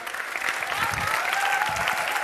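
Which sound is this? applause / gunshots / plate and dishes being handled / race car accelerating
applause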